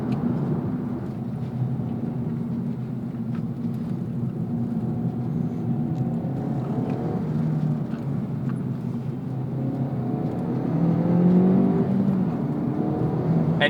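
An Acura Integra Type S, a front-wheel-drive sports compact, is pushed hard through corners, its engine a sustained muffled drone inside the cabin with rising and falling pitch as it works to hold power.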